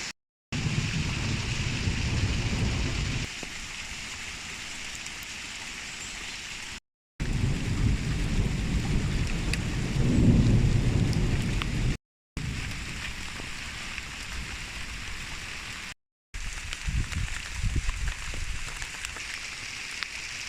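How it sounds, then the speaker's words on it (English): Rain falls steadily outdoors with low rumbles of thunder, a continuous wash of patter broken by brief cuts of silence, with no talk. "I hope you appreciated those plinky rain shots"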